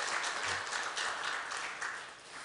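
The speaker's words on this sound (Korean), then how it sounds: "다시 한번 박수 한번 하실까요?" A church congregation applauds together, a steady wash of clapping at moderate distance that tapers off slightly toward the end.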